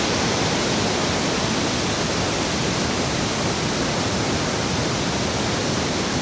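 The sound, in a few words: Li Phi waterfall on the Mekong in southern Laos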